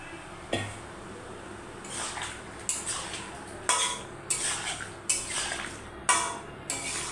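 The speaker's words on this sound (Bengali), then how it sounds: "এটাকে নেড়ে ভালো করে মিক্সড করব" Potatoes cooked with cumin are stirred in a pan, with a spoon scraping and clinking against the metal in a series of sharp, evenly spaced knocks over a quiet background.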